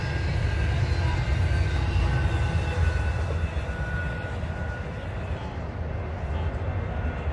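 Intermodal freight train rolling past at close range, a steady broad rumble with continuous wheel and car noise holding throughout, no talk.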